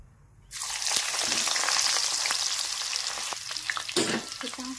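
Onion rings dropped into hot oil burst into a loud, steady close-up sizzle after a short quiet start, with bubbling crackle and the scrape of stirring running through to the end, no voices.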